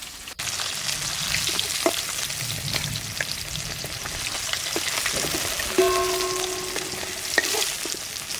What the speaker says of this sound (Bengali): বাকি মাছগুলো ভাজা হয়ে গেছে,